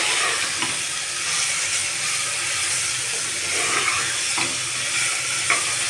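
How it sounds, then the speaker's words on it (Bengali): Masala with kidney beans is stirred and mixed in a hot pan, a constant loud hissing sizzle with soft scraping strokes from the spoon, close and steady, without any speech. "এবার মশলাটাকে ভালো করে আর একটু মিশিয়ে নিচ্ছি"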